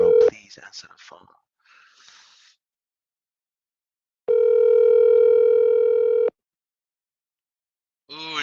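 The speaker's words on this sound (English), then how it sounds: "Please answer the phone." A telephone rings out on the line while a caller waits for an answer: one long, steady, loud ring tone sounds alone in silence, after a moment of talk and before more speech starts at the end.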